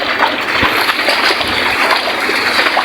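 Steady rushing and splashing of floodwater during Super Typhoon Pepito in Northern Samar fills the scene, a continuous churning wash with scattered splatters, loud and close.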